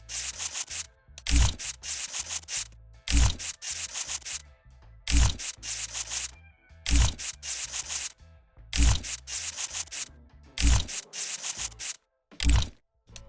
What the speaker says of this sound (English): Now, as per tradition, I figured I'd scrape one of these stickers.